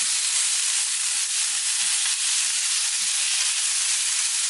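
Sliced potatoes stir-fry in a pan over high heat for a Korean potato side dish, giving a loud, steady, close sizzle that hisses without a break throughout.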